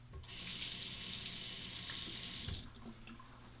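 Tap water pours steadily into a bathroom sink for about two seconds as a basin fills for rinsing a Feather SR Japanese straight razor during a shave, then cuts off, leaving faint drips and small handling noises.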